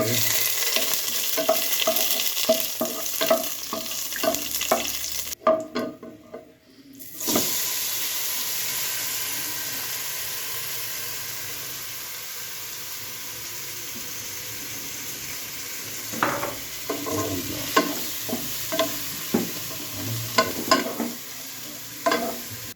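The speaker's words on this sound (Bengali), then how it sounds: "তার ভিতরে গাজরের এই কুচিগুলা দিয়ে ভালো করে নেড়ে ভেজে নিতে হবে।" Grated carrots are stirred and fried in oil and ghee with spices and bay leaf, producing a continuous sizzle broken by a short gap, with bursts of scraping stirring strokes at the start and again near the end.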